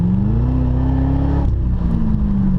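Engine of a car rising in pitch under acceleration, then a sudden downshift as the passing gear kicks in, followed by a lower, steady pull; loud and close from inside the vehicle.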